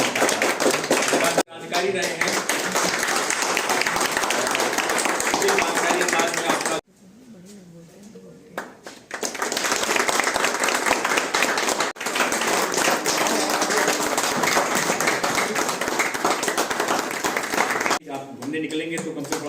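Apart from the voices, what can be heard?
audience applause at retirement ceremony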